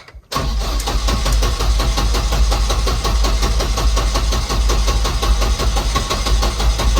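A turbocharged Volvo 245 engine cranks briefly, catches and settles into a loud, steady, rough-edged idle close by, with no talk.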